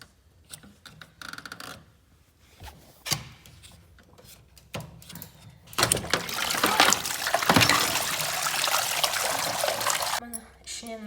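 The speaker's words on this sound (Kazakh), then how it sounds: "ішіндегі суын ағызамыз." Water drains from an LG washing machine showing an OE error, starting as sparse ticks and trickles, then becoming a loud steady gush. Occasional talk is heard.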